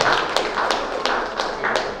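Audience applause at a cricket meet-and-greet event with Mumbai Indians stars, rendered as a steady patter of claps with periodic sharper bursts, close and fairly loud throughout.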